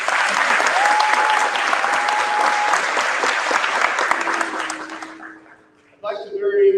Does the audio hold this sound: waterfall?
no